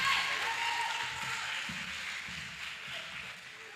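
A banquet crowd at a school all-sports awards night applauds the boys basketball coach with sustained, even clapping from a roomful of people, heard at moderate distance.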